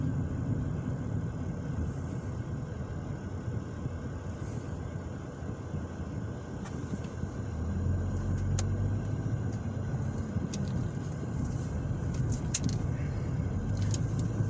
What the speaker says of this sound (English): I'm driving through downtown Anderson, Indiana